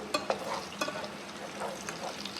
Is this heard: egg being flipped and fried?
yes